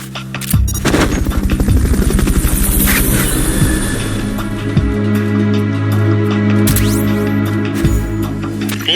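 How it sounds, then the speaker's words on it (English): A helicopter arrives for a Fulton recovery in Metal Gear Solid Peace Walker, its loud rotor chop mixing with bursts of gunfire and sharp impacts, then settling into a steady droning hum. "Fulton recovery helicopter is complete."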